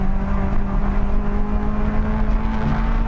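A hot hatch engine drones steadily on a Nürburgring lap, a constant loud hum with strong tonal harmonics and a little throttle variation, heard alone throughout.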